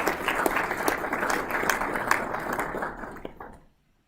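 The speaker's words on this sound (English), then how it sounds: "Please join me in a round of applause in their honor." Audience applause at a CS-11 commissioning ceremony, a steady patter of many hands at moderate distance that fades out and stops just before the end.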